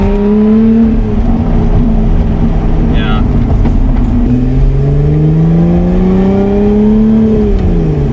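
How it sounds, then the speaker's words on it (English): Steady, loud engine drone from a 2021 Lotus Evora GT with windows down, revs rising and falling as it shifts gears, wind and road noise filling in underneath. "I'm still gonna roll the windows down for you guys so you can get that engine noise"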